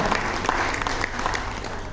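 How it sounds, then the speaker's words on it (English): An audience applauds at an event honoring a sustainable mobility initiative in India, a dense, steady wash of clapping that carries close and even for the whole stretch. "can we have a huge round of applause for this wonderful initiative"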